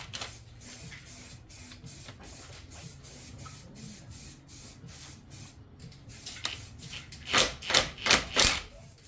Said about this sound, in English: the rattle gun should be enough to just crank that off straight away